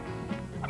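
A synthesized turkey gobble used as a sound effect in the film Blood Freak, a brief quiet warble over a steady hum.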